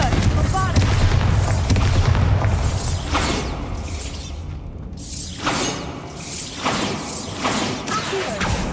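Confringo and Bombarda spell blasts in Hogwarts Legacy, loud booming explosions and whooshes layered over a continuous dense game soundscape with a voice calling out.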